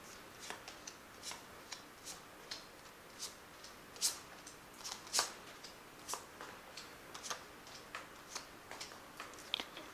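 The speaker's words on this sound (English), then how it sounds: "I'll just shuffle this deck again one more time" Tarot cards riffle and slap in short bursts, a soft shuffling with irregular clicks and flicks, close up and quiet, without any talking.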